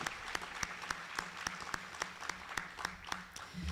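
An audience at a live evening debate event claps steadily, a dense, even wash of many hands with a few sharp individual claps standing out, sustained throughout.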